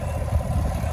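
A 2018 GMC Sierra K1500 Denali pickup engine idling, heard as a steady, smooth low rumble, close and continuous for a brief moment with no talking.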